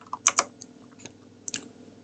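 A handful of light keystrokes on a computer keyboard, quiet and close, tapped in two short bursts with pauses between.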